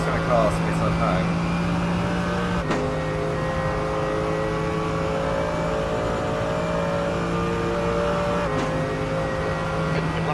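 A race car engine drones steadily while driving in Raceroom sim racing, its pitch holding and shifting with a couple of sharp gear changes, loud and close under the engine hum.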